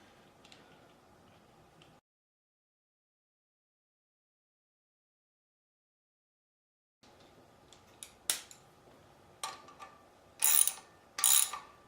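A socket wrench on 15 millimeter bolts during rear cover and flywheel installation on a 5.3 engine, with a few quiet clicks, a gap of silence, then sharp ratcheting bursts growing louder near the end.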